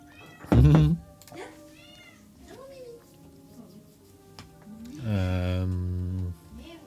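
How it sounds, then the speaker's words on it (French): A cat gives a sharp loud meow, then softer chirpy mews, followed by a longer drawn-out meow near the end; a person speaks quietly in between. "Miaou à toi aussi, Topaz. T'entends ça, Topaz? On te dit miaou"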